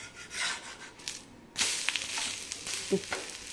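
Adai dosa sizzles on an iron pan after being flipped, a steady close frying hiss broken by scraping and rubbing as a spatula presses it down.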